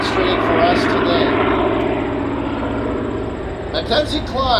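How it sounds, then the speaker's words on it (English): A Hawker Sea Fury makes a topside pass at an airshow in London, its piston engine a loud, steady drone with a rough, throbbing texture. "Mackenzie Cline in the Hawker Sea Fury with another topside pass."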